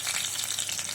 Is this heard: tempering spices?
yes